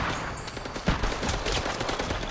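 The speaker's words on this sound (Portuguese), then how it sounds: "Eu tava tomando tiro antes de nascer" Gunfire crackles in a rapid, dense burst during an online match of the dinosaur-hunting video game Primal Carnage: Extinction, with one sharper crack standing out among the continuous shots.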